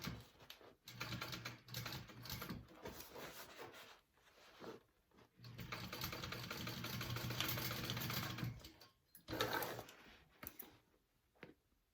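A sewing machine stitches a half-inch seam on a crossbody bag in several bursts of rapid, steady whirring, separated by short pauses and handling noises.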